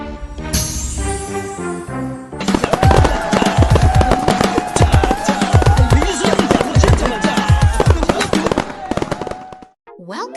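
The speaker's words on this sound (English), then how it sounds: "The skeletons are dancing and the fireworks are popping." Cartoon fireworks pop and crackle in rapid bursts over bright, bouncy music in a children's puzzle game, loud and busy throughout with a short chime at the start.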